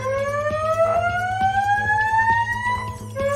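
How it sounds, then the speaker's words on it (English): A loud wailing fire alarm siren sweeps slowly upward in pitch over a steady low hum, continuous and close, with no talking. "Fire alarm."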